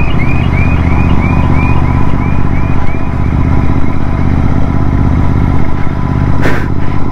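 A Continental GT 650 motorcycle fitted with a Red Rooster exhaust, silencer removed, drones loudly and close with a deep, steady engine rumble. Faint, small exhaust pops come through now and then.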